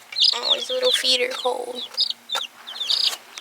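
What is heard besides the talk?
chicks peeping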